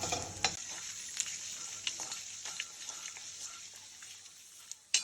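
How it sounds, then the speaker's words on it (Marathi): Asafoetida frying in hot oil for homemade onion-garlic masala gives a quiet, steady sizzle broken by scattered crackles and a few spoon-stirring scrapes near the pan, with no voices. "आता आपण छान हिंग तळून घेत आहोत।"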